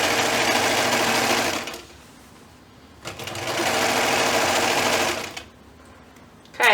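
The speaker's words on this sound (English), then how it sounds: "So I'm going to sew right to those double pins and backstitch." A sewing machine stitches the waistband of pajama pants in two fast, steady bursts, each about two seconds long, with short quiet pauses between them and a brief click at the end.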